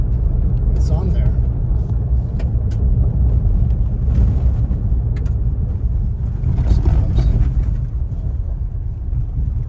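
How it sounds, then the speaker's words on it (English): A 2019-2023 Ford Ranger drives at about 40 along a gravel road with speed bumps, giving a steady, loud cabin rumble and road roar that runs without a break, with a voice faintly present. "here I am doing 40 down this gravel road"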